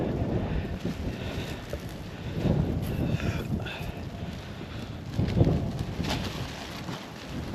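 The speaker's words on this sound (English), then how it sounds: "Let's get it out of the wind." Gusty wind buffeting outdoors on a farm, a continuous loud rumble and roar with swelling gusts throughout.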